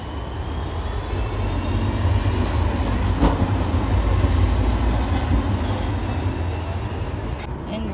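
A train rumbles at a station in Portugal, a loud continuous low roar with rail noise and faint wheel squeal, close and steady for several seconds without talk.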